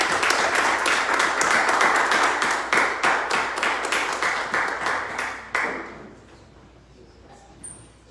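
Rhythmic group clapping at a Sunday church service, loud and steady in unison, then thinning into a few slower claps before fading to near silence.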